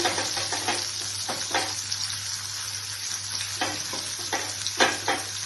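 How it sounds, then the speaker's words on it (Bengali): Garlic, tomato and onion fry in a pan with a steady close sizzle and an irregular series of stirring scrapes and clatters over a low constant hum. "রসুন দিয়ে দিচ্ছি, তারপরে টমেটো দিয়ে দিচ্ছি, পেঁয়াজ দিয়ে দিচ্ছি,"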